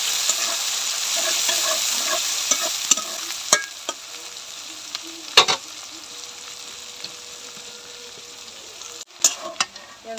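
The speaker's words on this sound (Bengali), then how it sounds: "পেঁয়াজটা ভালো করে লাল লাল করে ভেজে নেব।" Chopped onions fry in a pan for a katla fish dopiaza. A bright sizzle eases off while sharp spatula scrapes and clicks come at intervals as the onions are stirred.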